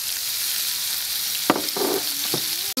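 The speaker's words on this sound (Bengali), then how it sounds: "এখানে যে কেটে নেওয়া পেঁয়াজ রসুন আর চিকেন আছে ওগুলো ঢেলে দিচ্ছি" Chopped onion, garlic and chicken tipped into a hot pan fry with a bright continuous sizzle, then bumps and scrapes from the pan and utensil, ending with an abrupt clatter.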